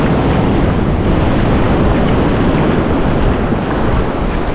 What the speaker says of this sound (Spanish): Que está pegando viento